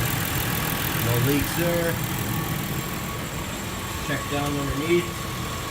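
A 2008 Hyundai Santa Fe 3.3-liter V6 idles steadily with freshly changed full synthetic oil, a smooth continuous hum close by while someone talks over it.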